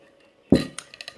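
A sharp clink of glassware rings out while a drink is mixed, followed by a few lighter taps and rattles, like ice or a spoon against a glass, close and brief.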